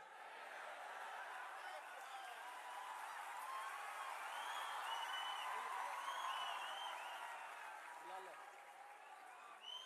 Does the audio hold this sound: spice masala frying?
no